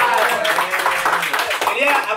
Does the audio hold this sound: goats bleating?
no